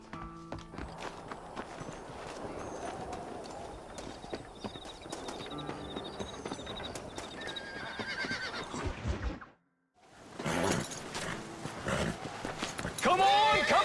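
Horses in the Red Dead Redemption western game, with steady hoof clip-clop and footsteps running through most of the scene, a whinny or neigh standing out, and a brief drop to silence before the game sounds return.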